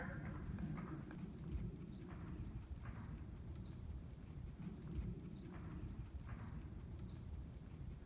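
Horse hooves clip-clop steadily through soft footing as a rider circles on the right lead, an even rhythmic beat under low rumbling background with no talk.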